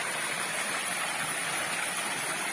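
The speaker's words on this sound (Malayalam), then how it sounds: "വെള്ളം പാറയുടെ പടിപടിയായി ഒഴുകി വരുന്ന ഒരു കാഴ്ചയാണ്" Kuruppumpadi waterfall, with water flowing down stepped rocks as a steady broad rushing wash, even and continuous, with no voices.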